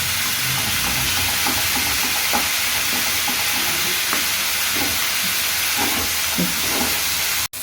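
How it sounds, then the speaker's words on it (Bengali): Onions frying in a pan for curd pointed gourd, giving a continuous loud, close hiss and sizzle with occasional soft stirring scrapes and no voices, ending in a sudden brief cut. "পেঁয়াজ ভাজতে একটু টাইম লাগে"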